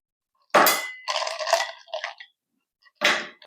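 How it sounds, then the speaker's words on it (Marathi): Ice cubes clatter into a steel mixer jar holding curd for buttermilk, a loud cluster of hard clinks followed by smaller rattles and one more sharp clatter after a pause. "थोडा बर्फ टाकायचा आहे."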